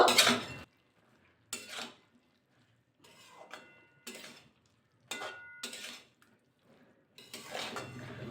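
Eggplant, potato and carrot stirred in a pan for a pui greens chorchori, giving bursts of scraping and clattering utensil-on-pan sounds separated by short quiet gaps, fairly close.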